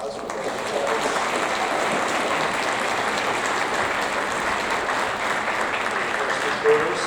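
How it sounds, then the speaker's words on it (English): An audience at a sixth-grade awards ceremony claps for students honored for attendance, with steady applause that fills the room for several seconds and a few voices mixed in. "If we could give them a round of applause for their attendance"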